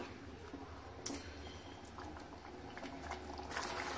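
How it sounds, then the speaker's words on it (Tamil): Palak paneer gravy of spinach and cottage cheese simmering in a pan, a soft steady bubbling and faint popping, quiet and close, with no voices. "இதல கொதிக்கட்டும்"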